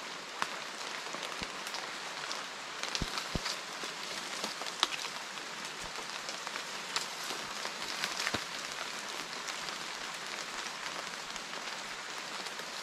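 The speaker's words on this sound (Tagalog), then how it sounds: "palakas ng palakas ang ulan ah" Rain pours steadily outdoors during a night-time kaong harvest, a dense, even hiss of drops with scattered sharper splats and taps close by, keeping a constant heavy intensity with no voices.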